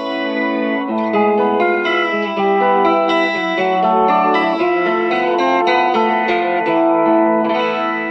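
Electric guitar played through a BOSS MO-2 Multi Overtone pedal, shimmering multi-voice effect, layered overtones and chorus-like thickness over a steady melodic line, loud and continuous.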